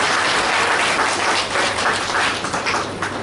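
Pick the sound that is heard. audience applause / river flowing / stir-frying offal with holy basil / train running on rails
audience applause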